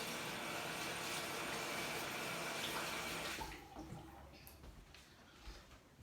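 Running water from a tap rinses acrylic paint off during an acrylic pour session, a steady broadband rush that fills the first few seconds, then cuts off and leaves softer handling noises.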